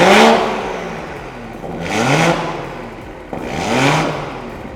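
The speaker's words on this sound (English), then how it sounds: "M Performance exhaust, which sounds fantastic." A 2023 BMW M340i with an M Performance exhaust and downpipe revs up loudly three times, each rise roaring then fading, with a sharp crackle between the last two pulls.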